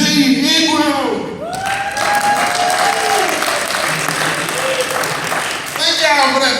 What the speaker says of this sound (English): Thank y'all for that fake applause.